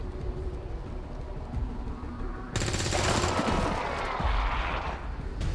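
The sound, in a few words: gunfire from soldiers in XCOM 2 video game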